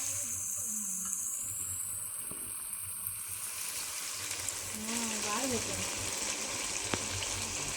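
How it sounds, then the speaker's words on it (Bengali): Water from a pressure cooker poured into sizzling mutton curry in a pan produces a rushing hiss and bubbling sizzle, with a person talking over it partway through. "জলটা দিয়ে খানিক কষছি"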